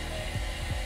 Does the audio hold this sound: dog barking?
no